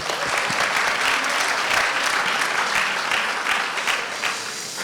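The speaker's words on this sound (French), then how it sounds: "On va l'applaudir encore." A room full of people claps steadily, a dense patter of applause that holds throughout and fades slightly at the end.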